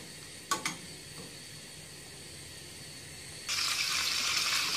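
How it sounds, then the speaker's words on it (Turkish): Butter melts in a pan, destined to be poured over Antep-style şiveydiz soup. After a quiet stretch with a couple of light clicks, a steady, bright sizzling hiss starts up and continues to the end. "Çorbanın üzerine dökmek için tavaya tereyağı koydum"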